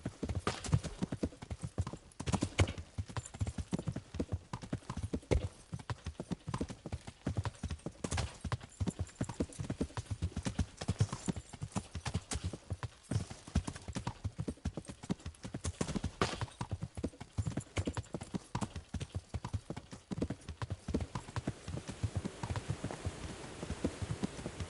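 Horse hooves clip-clop steadily and close in the medieval game Kingdom Come: Deliverance, a dense run of quick hoof strikes continuing for the whole stretch with a soft rain-like hiss beneath.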